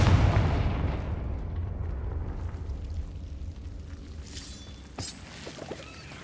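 Confringo blasting spell in Hogwarts Legacy erupts in a deep, rumbling fiery explosion that slowly fades, followed by a brief crackle and sharp magical zing near the end.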